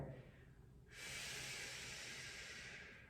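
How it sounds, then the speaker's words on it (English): Quiet but audible breath exhaled through the mouth with the teeth gently touching, a single soft, steady hiss of air after a brief pause, close and alone. "I'd like the exhale to now be a quiet but audible exhale through the mouth as you're gently clenching the teeth together"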